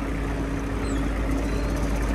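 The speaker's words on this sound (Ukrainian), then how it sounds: "Рукою без вижиму перемикаємо передачку і тракторець їде швидше" A Kubota GT-5 mini tractor engine drives in a low gear, a steady close mid-pitched mechanical drone running evenly throughout with no talk.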